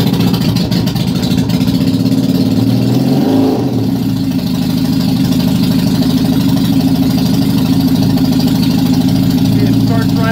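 Small engine idling steadily with the choke pushed down, recorded in a garage; a continuous loud mid-pitched running tone with slight unevenness, and a voice is heard over it.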